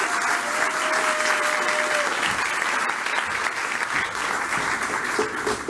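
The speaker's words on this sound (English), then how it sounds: "Give a round of applause." Audience applause at a public speaking challenge event, a steady, dense wash of clapping filling the room throughout, with a faint tone briefly audible early on.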